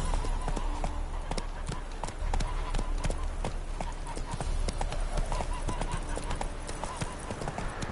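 Horse hooves clip-clopping at a run in The Witcher 3: Wild Hunt, Hearts of Stone, a steady rhythmic drumming of sharp impacts that continues throughout over a constant background, with brief spoken words now and then.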